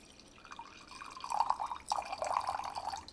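Liquid poured into a toilet bowl to show how the sound carries, a close, steady trickle with bright dripping splashes lasting a few seconds.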